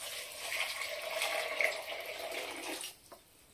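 Water is poured from a drinking glass into a pressure cooker holding tomato and beans, a close, splashing gush that runs for a few seconds, then stops, followed by a small clink.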